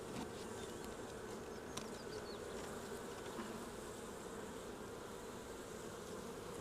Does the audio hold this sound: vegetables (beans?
no